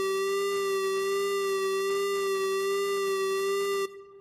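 A steady chiptune lead note from the Helm software synth, its pitch modulated by a sine wave, held as a bright buzzy tone with rich harmonics and a faint pulsing wobble, loud and alone, then cut off abruptly near the end.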